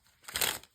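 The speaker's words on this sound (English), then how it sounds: "I'm going to just shuffle one time for the message from our page today" A single quick shuffle of a tarot card deck, a brief papery riffle lasting under a second, close and fairly soft.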